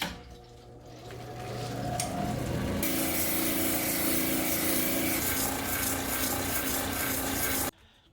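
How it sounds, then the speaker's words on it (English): A rock being sanded by hand late at night, a steady, continuous gritty rasping that swells and holds at a fairly loud level before stopping abruptly near the end. "So I'm working late trying to get this sanded."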